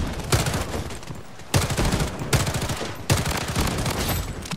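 A shotgun fires in the mobile shooter Blood Strike as three loud, close bursts of rapid blasts, each lasting about a second, with brief pauses between them.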